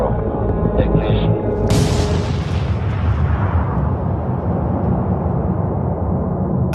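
The Trinity atomic bomb test detonation, rated at 21 kilotons of TNT, lands as a sudden loud blast that rolls into a long, deep rumble slowly fading. It comes over a dense, noisy background and a brief tone just before it.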